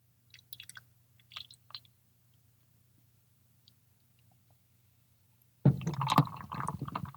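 A can of New England IPA is poured into a glass, a sudden gurgling, splashing rush of liquid starting after a few seconds of near silence with faint can handling, then continuing steadily and close up.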